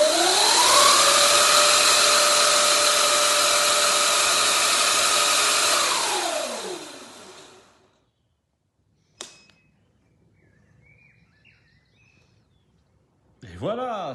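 An electric motorbike motor (Surron, KO spec motor) whines loudly at high speed during calibration with a steady rising pitch, then spins down and falls silent; a short click and another brief whirring rise follow.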